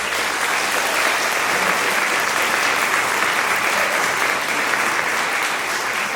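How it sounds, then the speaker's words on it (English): A graduation audience applauds a keynote speaker, dense and sustained clapping from a large crowd filling the room evenly for several seconds. "Please give a round of applause for our keynote speaker tonight, Dr. Moss."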